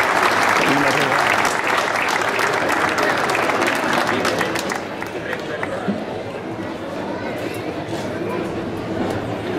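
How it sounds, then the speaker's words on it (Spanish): Festival crowd at the floral romería of San Bartolomé in Fontanales applauding loudly and densely, easing to a softer, thinner clapping in the latter half with background chatter. "Un aplauso grande para Roberto."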